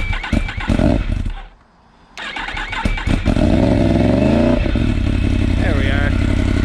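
A Yamaha MT10 motorcycle, flooded with fuel, cranks and stumbles, cuts out briefly, then fires up and settles into a loud, close, rumbling idle with some rev changes; a voice talks over it.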